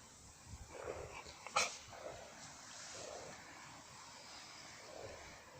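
Ca de Bou dogs, a Mallorcan mastiff breed kept at a kennel, whimper in faint, drawn-out whines that come and go in several soft bursts over a noisy outdoor background, with one brief sharper sound partway through.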